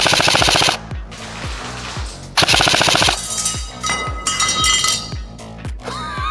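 Bursts of airsoft gunfire from an airsoft gun in binary trigger mode, with rapid repeated shots in several strings separated by short gaps, close and loud, with sharp clinks of BBs striking a target.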